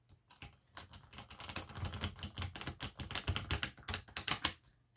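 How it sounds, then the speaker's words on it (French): Tarot cards being shuffled by hand, a steady run of dense, crisp clicking and riffling flicks close up, continuous for several seconds with no voices. "On va bien brasser, on va bien mélanger."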